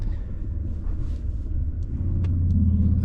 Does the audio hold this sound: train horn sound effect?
no